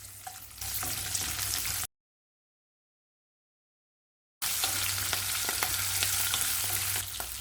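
Ginger, garlic and green chillies sizzle steadily in hot oil in a pan for Chettinad chicken white kurma, with two stretches of frying split by a silent break.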